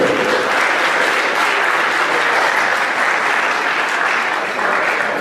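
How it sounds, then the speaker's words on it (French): An audience claps steadily during a visit by the transport minister and prime minister, loud, sustained crowd applause filling the room for several seconds without pause. "Sous l'applaudissement, s'il vous plaît."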